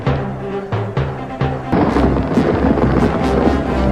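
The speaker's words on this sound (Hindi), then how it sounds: "आंधी के बीचों बीच गणेश वापस उसी स्थान पर गया" Thunderstorm sound effect in a Hindi moral story, set during a violent windstorm. Loud, close cracks and booming rumbles strike several times, then merge into a continuous roaring wash of storm noise, with no voice over it.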